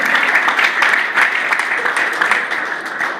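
Audience at a live show in El Paso, Texas applauds and cheers loudly, a dense steady roar of clapping and whoops that fills the whole moment without letting up.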